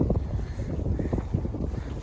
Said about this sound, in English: there's sort of a howling type noise from the wind